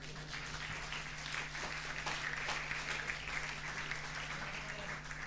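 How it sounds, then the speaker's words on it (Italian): Audience applause at a literary prize award ceremony in Olbia, welcoming a guitarist to the stage: a steady, dense wash of clapping over a low constant hum, even in level throughout. "Lo accogliamo con un fortissimo applauso"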